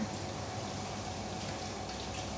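A hose runs water steadily while a cat is bathed, a continuous close splashing wash with no pauses and no voices.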